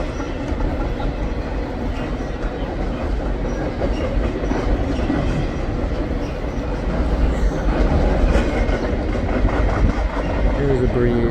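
A Norfolk Southern freight trash train charges northbound past a crossing at Shenandoah Junction, a loud continuous rumble of rolling cars with rhythmic wheel clatter and a faint squeal near the end, close by.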